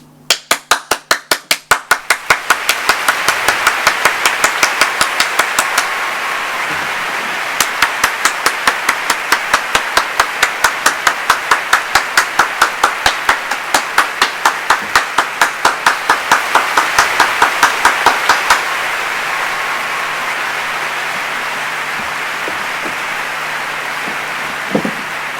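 Crisp, evenly paced hand claps ring out in long runs, pausing briefly and then resuming before stopping altogether near the end, leaving a quiet backdrop.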